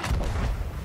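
Ship cannon firing chain shot in Sea of Thieves: a single deep, booming blast with a rumbling low tail, close and loud, no voices.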